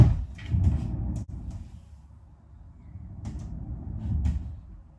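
Plywood drawers glide in and out on homemade plywood rails inside a caravan, giving soft wooden rumbling slides with a sharp knock partway through, heard close and alone.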